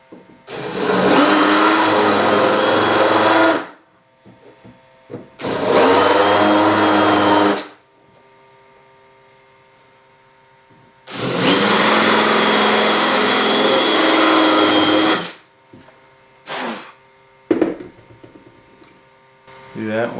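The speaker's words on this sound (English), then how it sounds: "We got our holes countersunk in there." A power drill countersinks screw holes in wood for an antler coat rack, with three loud, close whirring runs of a few seconds each, then two brief bursts and some quiet handling noise between them.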